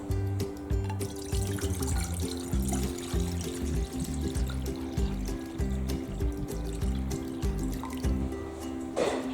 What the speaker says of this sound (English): Pour 1 liter of water into a pot.